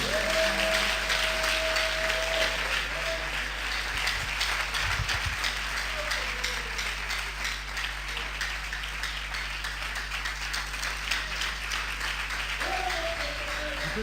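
A church congregation applauding and cheering during a worship service, dense sustained clapping that holds steady, with a few brief vocal calls at the start and end.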